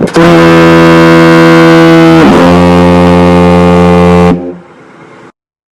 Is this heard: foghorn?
yes